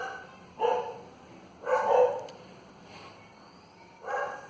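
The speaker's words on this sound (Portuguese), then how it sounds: "os cachorros do vizinho já começaram a latir." A few neighbour's dogs bark in separate bursts from some distance, spaced irregularly with quiet gaps, over a faint background hum.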